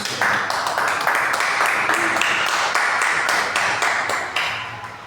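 Church congregation clapping hands during worship, a steady rhythmic beat of many palms striking together on each pulse for about five seconds, fairly loud with faint voices underneath.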